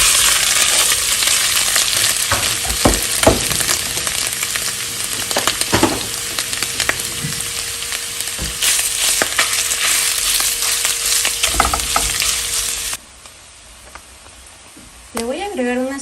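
Half a kilo of longaniza sausage fries in a pot, a steady sizzle with clinks and stirring knocks, running under a speaking voice until it cuts away near the end.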